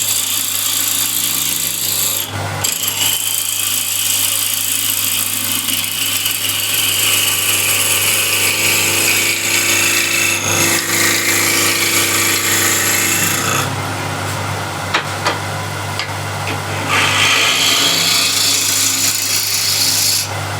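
A wood lathe spins steadily at about 1600 RPM while a spindle gouge cuts a wooden workpiece, giving a continuous loud scraping rasp over a low motor hum, with brief dips where the tool lifts off.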